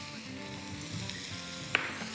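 Carrots sizzle in a little oil in a pan for vegetable soup, a steady close frying hiss with a brief clink of a utensil near the end.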